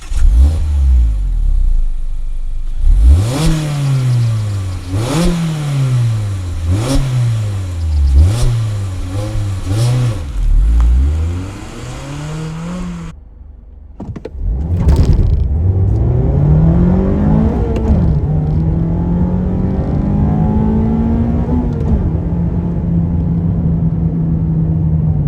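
A 2026 Mazda MX-5 RF GT with a six-speed manual and rear-wheel drive revs up loudly in repeated pulls through the gears, then eases off briefly before one long, steady acceleration.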